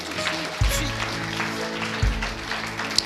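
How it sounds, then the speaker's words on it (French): Church congregation applauding after a prayer service, a steady, moderately loud clapping with a couple of stronger thumps, under a sustained hum. "On va les applaudir bien fort."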